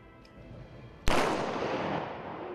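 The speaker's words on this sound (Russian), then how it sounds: "Торжественный салют на территории училища звучит в 107 раз" A single ceremonial gun salute at a military school graduation cracks out sharply after a quiet moment, one loud blast followed by a long rolling echo that fades over the next second and a half.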